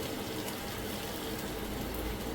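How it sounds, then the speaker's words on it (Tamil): Water pours steadily into a pan while cooking pepper prawn gravy, with a continuous splashing gush, close and fairly loud, with no talking. "அந்த தண்ணியை வந்து இதில் ஊற்றிக்கலாம்."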